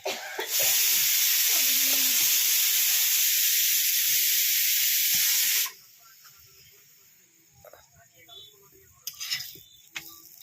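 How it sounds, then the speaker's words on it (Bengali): An aloo paratha hits a hot pan spread with a little white oil, giving a loud, bright hiss that holds for about five seconds, then drops to quieter crackling with a few light clinks. "প্রথমে দুই পিঠটা ভালো করে সেঁকে নিতে হবে, তারপর অল্প সাদা তেল ছড়িয়ে দিতে হবে।"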